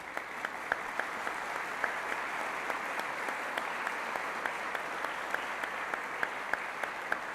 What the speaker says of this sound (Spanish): nuestras Fuerzas Armadas requieren un aplauso de todos los colombianos